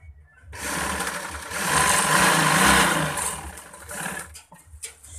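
A sewing machine stitches thin chiffon palazzo pants in one sustained close run, a steady whirring rattle that swells and then slows near the end.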